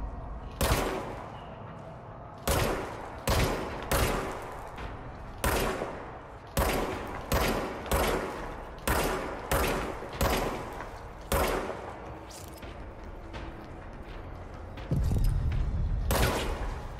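Gunfire from the video game Control, the service weapon firing a string of sharp, loud single shots in irregular bursts, roughly a dozen reports spaced about half a second to a second apart, with a low rumble near the end.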